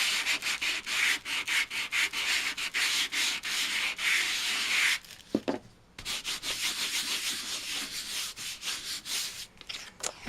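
A hand sanding tool rubs back and forth over a craft piece in quick, even strokes, loud and close, with a brief pause partway through before the sanding resumes.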